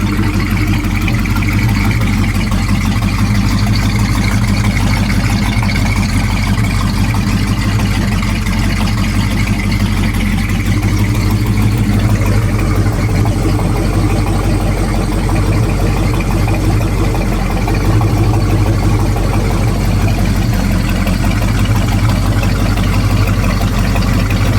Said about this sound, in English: Idle's a little bit rough, but I'm not going to worry about that